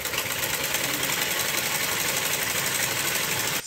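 A sewing machine runs steadily, stitching the yoke of a kameez; the dense, even mechanical whir holds close and constant for the whole stretch, with no talk over it.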